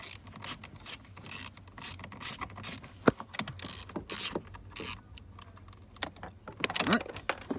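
A ratchet on a wobble extension loosens ignition switch bolts on a 1997–2003 Ford pickup, making short bursts of close, crisp clicking separated by pauses, with brief metallic clinks between strokes.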